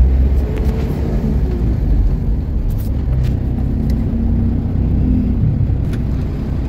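A Ford Everest engine idles steadily with a low, even rumble and faint whirring, loud and close, unchanging for the whole stretch with only slight tonal drifts and no voices.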